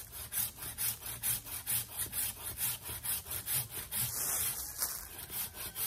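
A hand saw cutting through a thick tree branch nearly 20 cm across, a steady back-and-forth rhythm of rasping strokes about two per second, close and fairly quiet, with no talking.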